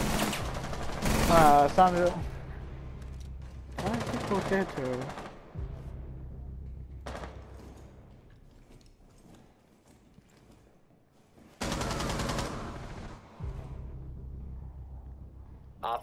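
Bursts of automatic gunfire from a Rainbow Six Siege match crackle in two loud clusters, with a third burst later, and sharp shots in between; a person talks intermittently over the action.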